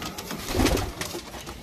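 Pigeons, green Giribaz birds, coo softly close by in a continuous low murmur with no talking.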